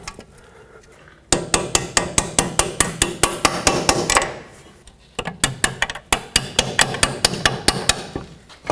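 A hammer drives a bolt through the strut and steering knuckle of a 2005-2010 Pontiac G6. The close, sharp metallic blows come in quick steady runs, with a short pause between the two bursts.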